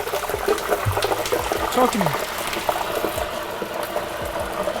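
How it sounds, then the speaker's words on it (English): Chicken wings frying in hot oil give a steady bubbling, crackling sizzle, with a voice speaking briefly over it close by. "this is gonna get a little loud because I'm frying stuff"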